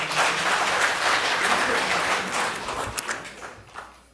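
A crowd at a political panel discussion greets the party leader with applause, a loud, dense burst of many people clapping that holds steady, then thins to a few scattered claps and fades out.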